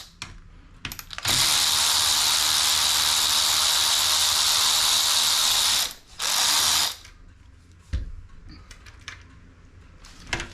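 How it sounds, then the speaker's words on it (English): A power tool loosens a 5 mm hex bolt on a Segway G2 front fork, running in a loud, steady whirring ratchet burst of about five seconds, then a short second burst, with light handling clicks before and after. "I'm going to use a power tool to open this."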